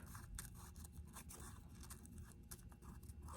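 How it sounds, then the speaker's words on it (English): Scissors snip and rasp through crepe paper up close, a quiet steady cutting texture with small repeated bursts, no voices. "So you're going to take your scissors,"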